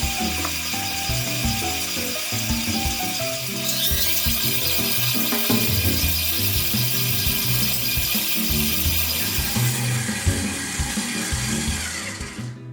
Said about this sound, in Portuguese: Vamos bater, vamos incorporar mais essa manteiga.